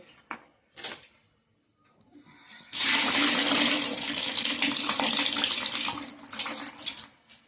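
Water left from washing urad dal pours steadily into a bucket in a home kitchen, a loud continuous splashing rush that starts abruptly after a few quiet seconds with light clatter, then carries on to the end.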